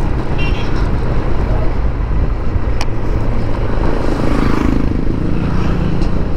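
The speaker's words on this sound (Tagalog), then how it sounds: "Ang daming motor dito." Many motorcycles riding along a road in Sariaya, Quezon on a morning ride, a loud continuous engine roar and traffic rumble passing close by throughout.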